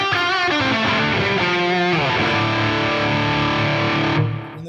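An electric guitar runs through an 808 overdrive, noise gate, plate reverb and tape delay, playing a loud, distorted sustained riff with rich ringing chords that cut off sharply near the end as the gate closes, without any talking.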